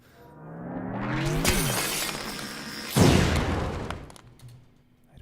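A JRPG ice spell sound effect builds with a rising tonal sweep, then breaks into a bright crystalline shatter with a heavy impact near the middle, decaying into scattered glassy fragments, moderately quiet, no talking.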